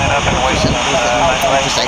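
A Virgin Atlantic Airbus A340 jet lines up on runway 09 right at Heathrow, its engines giving a loud, steady roar up close while a voice talks over it.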